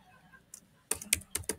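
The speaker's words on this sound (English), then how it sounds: "I am typing a password, change password." Keys clack on a computer keyboard as a password is typed, a quiet tap followed by a quick irregular run of crisp, close keystrokes with no voice.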